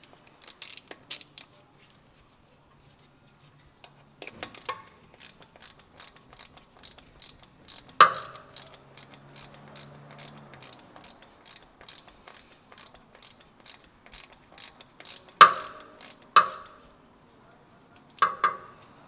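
Ratchet wrench clicks rapidly and steadily as it backs the transmission fill plug out of a 2014 Toyota 4Runner SR5, a close, crisp run of repeated pawl ticks with brief pauses and a few louder metallic clanks.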